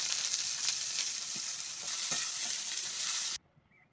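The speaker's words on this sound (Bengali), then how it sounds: "তেলের উপর দিয়ে দিলাম কুচানো পেঁয়াজ।" Chopped onion frying in hot oil for cauliflower kofta curry, a steady loud sizzle with occasional stirring scrapes that cuts off abruptly near the end.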